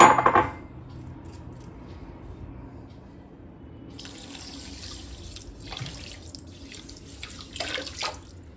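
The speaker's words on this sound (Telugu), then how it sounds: "ఇప్పుడు ఈ పంచదార ములిగేదాకా వాటర్ పోయాలండి." Water pours into a thick-bottomed pot of sugar to make syrup for thokkudu laddu. A short clatter opens, then a steady splashing pour runs close up for the last few seconds, with no talk.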